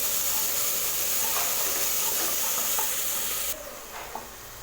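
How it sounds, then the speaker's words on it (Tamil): Ground green chili and mint paste sautéing in hot oil for mint rice over a medium flame, a steady close hiss and sizzle with faint stirring scrapes that eases off near the end. "ஆட் பண்ணி இது நல்லா வதக்கணும்."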